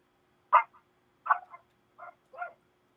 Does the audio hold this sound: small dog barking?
yes